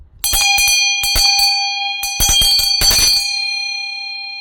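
A 7-inch Tibetan bell from Nepal rung in several rapid bursts of jingling strikes, bright sustained ringing tones lingering and fading between and after them.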